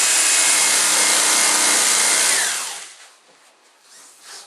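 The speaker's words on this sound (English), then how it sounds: "Now we got some straight cutting here to do." A knife makes straight cuts through the insert of a Pelican Storm iM3300 case, giving a loud, steady, coarse rasp for almost three seconds before it drops off to faint scraping.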